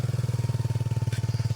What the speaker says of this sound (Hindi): तो ये सिन्हा का गाड़ी एक्रापोविक एग्जॉस्ट के साथ आपको फ्लैश मार के दिखा देते हैं